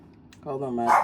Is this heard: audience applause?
no